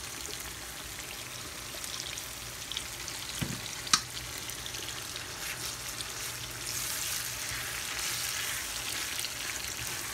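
Spaghetti with soy sauce is stirred and fried in a pan, a steady moderate sizzle with scraping and a couple of sharp clicks from the utensil, growing slightly louder toward the end, with no talking.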